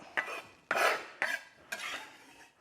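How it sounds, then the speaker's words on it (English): Nuts being stirred as they toast in a pan, four distinct scraping sweeps in a steady rhythm, close and fairly quiet with no talking. "I'll just give those nuts a little bit of a stir up again"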